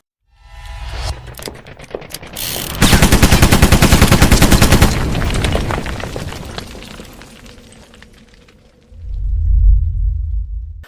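Rapid gunfire from a Kel-Tec PMR-30 .22 Magnum pistol, a loud close burst of quick shots lasting a couple of seconds, followed by a low rumble and a dull thump near the end.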